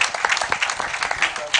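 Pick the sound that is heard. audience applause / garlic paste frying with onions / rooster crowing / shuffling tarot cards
audience applause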